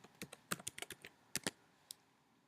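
Code being typed on a computer keyboard comes through as a quick, irregular burst of crisp key clicks, close and fairly quiet, ending in a single last tap after a short pause.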